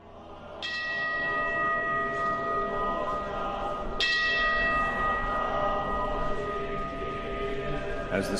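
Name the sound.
temple bells ringing in Kyoto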